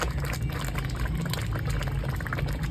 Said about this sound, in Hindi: ये देखें जी इसमें घी डाल रहे हैं